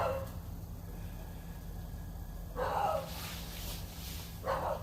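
A dog gives two short, muffled barks a couple of seconds apart over a low steady hum, faint and somewhat distant.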